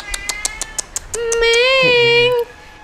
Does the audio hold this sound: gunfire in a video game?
no